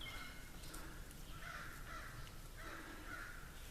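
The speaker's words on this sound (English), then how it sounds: "When you hear crows going off like that" Several crows caw in repeated bursts from a distance, faint against a steady outdoor background hiss.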